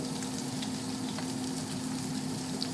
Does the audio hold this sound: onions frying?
yes